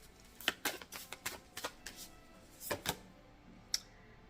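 Tarot cards being shuffled by hand during a love reading: a series of crisp riffling bursts and soft slaps, close and clear, with pauses between them and a final sharp snap.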